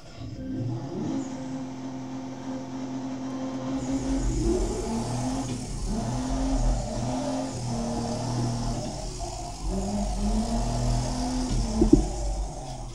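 A car engine in race mode in the video game DR!FT hums steadily, with the pitch rising and falling through gear changes and a faint hiss on top. The engine runs alone without talk.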